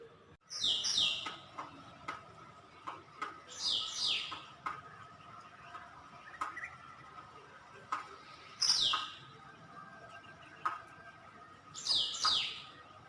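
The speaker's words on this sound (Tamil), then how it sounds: "பறவைகளோட இனிமையான சத்தத்தை அமைதியாக நீங்களும் கேளுங்க." Birds chirp at dawn in short bright bursts every few seconds against a quiet background in the Kolli Hills, with faint ticks and distant calls in between.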